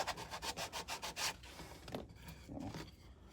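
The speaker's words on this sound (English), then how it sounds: "This old sand sponge I had laying around, this will probably do the trick for now." An old sand sponge rubs a small piece smooth in a quick run of about ten close, steady strokes, then a few slower, softer scrapes follow.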